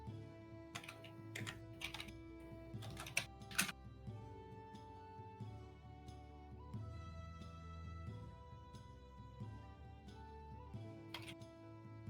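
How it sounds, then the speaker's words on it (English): A loud computer keyboard clatters with rapid, irregular keystrokes. Bursts of sharp clicks come in clusters, then lighter tapping follows, close to the microphone, with no speech. "that keyboard is so loud"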